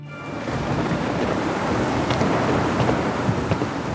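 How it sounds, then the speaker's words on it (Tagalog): Heavy rain pours down in a steady, loud hiss, with a faint rumble of thunder under the dense downpour and no voices. "Sobrang lakas ng ulan at halos hindi na makita ang daan."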